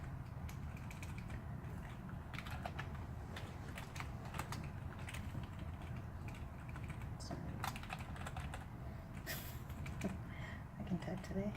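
Rapid, irregular clatter of fingers on a computer keyboard while client information is entered, steady and close, with a voice speaking over parts of it.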